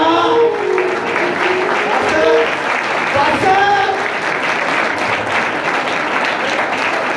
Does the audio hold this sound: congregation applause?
yes